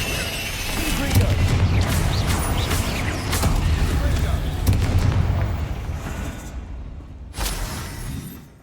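Confringo blasting spells exploding in Hogwarts Legacy, a sustained rumbling roar of booms that fades and then ends with one sharp blast, under occasional talk.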